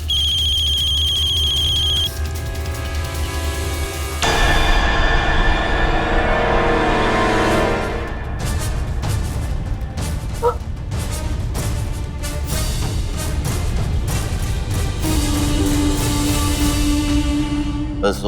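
A phone ringtone plays as a repeating electronic melody, clear and fairly loud in a quiet room, breaking off and then giving way to dramatic background music.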